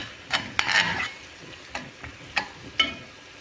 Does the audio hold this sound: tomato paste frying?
yes